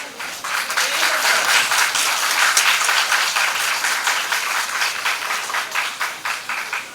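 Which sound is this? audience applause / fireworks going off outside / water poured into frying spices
audience applause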